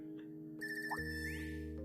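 A phone ringtone in the video game Trails of Cold Steel 3, a bright electronic melody of repeated chiming tones over a soft game soundtrack, heard alone without talk.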